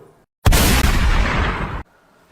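A single loud blast from a gunpowder-pot firecracker hidden under a seat, bursting suddenly after silence and roaring for over a second before cutting off abruptly.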